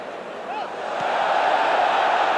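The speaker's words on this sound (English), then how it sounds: "The crowd appealing for handball." A football stadium crowd at the 1995/96 Inter vs Vicenza match raises a broad, distant roar of appeal for handball, swelling steadily louder and holding at a dense, sustained level.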